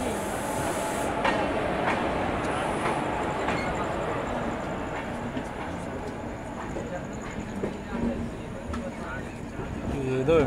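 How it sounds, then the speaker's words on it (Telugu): An empty-rake RRB exam special train rumbles past near a junction in a steady, continuous roar of wheels and carriages, with faint muffled voices beneath. "అదైతే ఆర్ఆర్బి ఎగ్జామ్ స్పెషల్ ట్రైన్"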